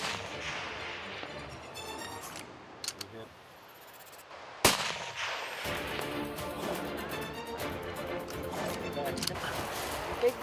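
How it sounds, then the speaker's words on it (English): A single sharp rifle crack rings out partway through, a hunting shot at a bull in British Columbia, loud and abrupt against quieter outdoor background and talk. "I'm going to tell you to take the shot."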